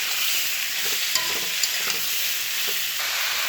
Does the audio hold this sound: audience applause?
no